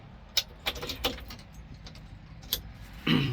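Keys to a 1948 Ford F6 truck jangle and clink in quick metallic bursts up close, pausing briefly before another rattle, over a quiet background hum.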